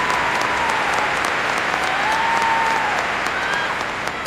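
A large crowd applauds football champions after a final, steady dense clapping sustained throughout with no talking over it.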